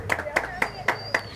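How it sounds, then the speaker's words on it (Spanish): A few participants clap in a short, uneven burst during a classroom word-guessing game, with several sharp hand claps spaced through the moment and voices talking over them. "Muy bien, aplauso."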